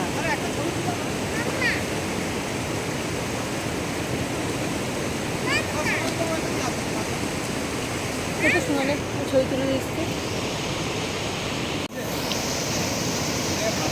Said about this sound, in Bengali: তিস্তা স্রোত দেখো তিস্তা স্রোত